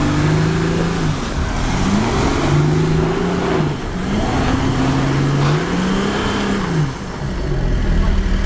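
Several cars with all-wheel drive, including Nivas, a Hummer H2, a Touareg, a Toyota and a Duster, driven hard uphill on a slippery slope; a loud, sustained engine roar rises and falls in repeated revving sweeps throughout.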